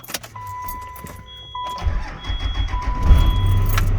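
A Dodge Ram 2500 diesel truck engine cranks and catches, settling into a low rumbling idle after a brief starter whir; close and fairly loud.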